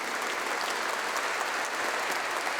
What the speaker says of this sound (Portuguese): Uma salva de palmas à palavra do Senhor.